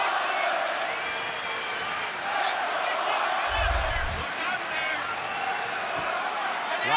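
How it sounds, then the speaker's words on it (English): Arena crowd at an MMA fight roaring and chanting for a fighter, a rhythmic wash of voices under close commentary talk, with a brief low thump partway through. "Let's go Weidman chant raining through the crowd."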